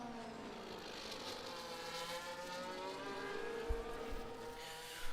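Race cars in a racing video game whine past at high revs, their engine tones layered and shifting as one overtakes another, with a couple of soft thumps near the end and no talk.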